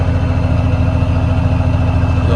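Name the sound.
tractor engine idling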